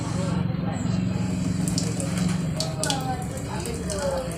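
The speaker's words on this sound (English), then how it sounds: "turn on the water and adjust the flow" A warm tap runs steadily into a sink for hand washing, a continuous mid-level rush of water with a faint hum beneath it and no talking over it.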